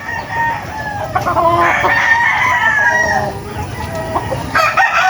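Roosters crow and hens cluck together in a busy, close farmyard chorus, with a faint voice underneath.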